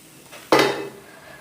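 Grated coconut is stirred and roasted in a pan, with one sharp close scrape and clatter of a utensil against the metal pan, then a quieter soft rustle.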